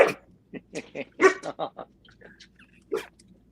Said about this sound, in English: My dog's starting to bark.